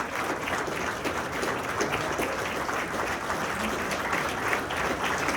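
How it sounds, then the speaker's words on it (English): A crowd at a Corona military salute event applauds veterans, active duty service members, and Gold Star and Blue Star families: dense, steady clapping that fills the whole stretch, loud and close, with no speech over it. "let's give them a round of applause"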